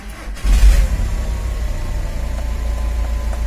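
Skoda Laura with a tight power-steering fault starting up: a brief starter crank, then the engine catching into a loud, steady low idle with a deep rumble, close by.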